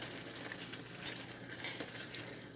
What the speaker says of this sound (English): Stir it up. Get everything incorporated.